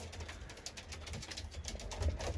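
A pigeon coos softly, a faint low murmur against quiet background hiss, with no one speaking.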